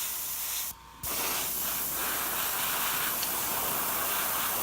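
Airbrush spraying paint onto a Nebulous model, a steady close hiss that pauses briefly once and then resumes evenly.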